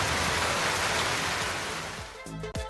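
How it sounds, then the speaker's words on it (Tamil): Heavy rain falls over Palani in Dindigul district as a dense, steady hiss of downpour that thins out near the end. "திண்டுக்கல் மாவட்டம் பழனி மற்றும் சுற்றுப்புற பகுதிகளில் இடியுடன் கனமழை பெய்தது"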